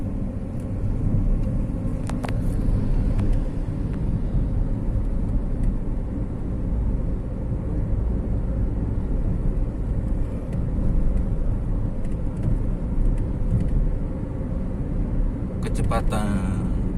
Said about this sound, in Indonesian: kecepatan kendaraan 40 km per jam